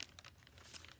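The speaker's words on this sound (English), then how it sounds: "Let me grab my paper over here." Sheet of paper picked up and handled, a quick crinkle and rustle close by lasting about a second, with one louder crumple near the end.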